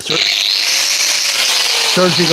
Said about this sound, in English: We're going to do the drill first